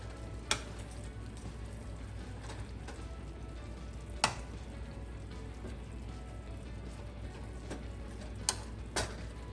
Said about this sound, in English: Let those onions get nice and cooked.